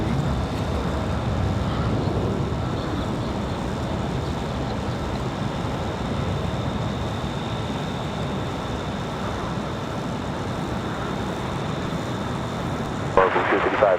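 A PSA Airlines jet flying as Blue Streak approaches Raleigh-Durham airport to land. It makes a steady, loud, broad engine roar mixed with wind rush that holds evenly throughout.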